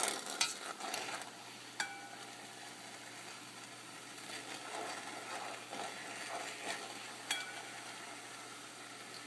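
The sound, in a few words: sweet pork and eggs being rolled around in pan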